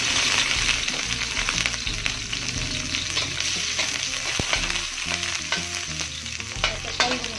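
Shallots sizzling and crackling in hot oil, steady and close, with occasional stirring scrapes and no talking.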